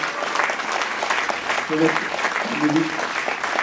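A crowd applauds at a Golden Globe Race sailing event in Les Sables d'Olonne, dense continuous clapping with a voice briefly audible beneath it, sustained and even.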